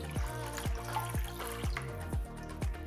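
Water pours and drips into a bowl of eggless pumpkin bread batter with pumpkin puree, yogurt and oil, a soft close trickle with repeated small splashy drops.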